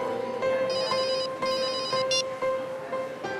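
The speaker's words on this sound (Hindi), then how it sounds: "सर का फोन, बात करोगे?" A phone ringtone plays a steady, repeating electronic melody, loud and close, with no talking over it.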